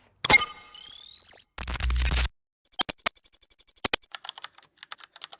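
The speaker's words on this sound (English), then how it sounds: "UI and text sound effects." A run of UI and text sound effects: a sharp blip, a bright rising tonal sweep, a dense noisy burst over a low thump, then quick crisp keyboard-typing clicks in an uneven patter, all clean and close with no voices.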